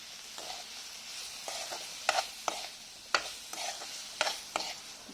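Cauliflower with peas and salt stirred in a hot pan, a soft sizzle under repeated scraping strokes of the spoon, about eight distinct stirs close by.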